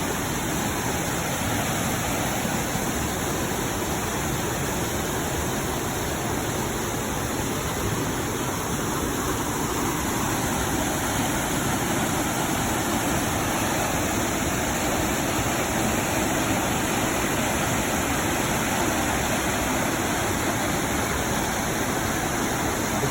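Waterfalls in Boone County, Arkansas run full after heavy rain, making a steady, dense rushing roar that holds unbroken throughout, with no voices.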